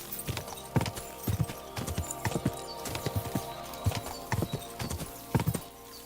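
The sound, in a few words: horse hooves galloping in a video game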